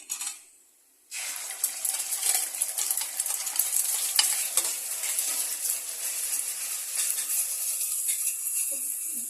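Egg hitting a hot pan after a second of quiet, then a loud sustained sizzle with crackling spatters and stirring, close and continuous.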